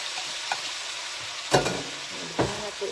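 Carrots sautéing in a pan for sotanghon vegetables, a soft continuous sizzle with a couple of sharper scraping stirs, close and fairly quiet, with no talking.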